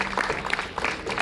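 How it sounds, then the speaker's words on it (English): Brief burst of clapping and cheering from a crowd at a Labor Day workers' rally in Cookeville, Tennessee, with voices mixed into the noisy applause. "give yourselves a round of applause"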